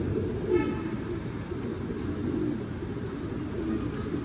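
Pigeons in a Turkish loft coo softly amid a steady low rumble of background noise, with faint calls surfacing now and then over the continuous hum.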